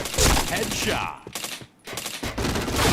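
Rapid video game gunfire rattles in dense bursts, briefly pausing into near silence before the shooting resumes loudly, with faint voice in the background.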